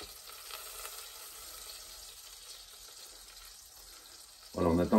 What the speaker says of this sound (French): on attend que le beurre soit complètement fondu.